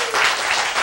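A short, dense burst of audience applause sounds loud and close, lasting under a second.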